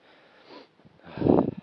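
A hiker breathing hard while climbing uphill on a hot day in the Carpathians, two heavy, close puffing breaths, the second louder and rougher, with no talking.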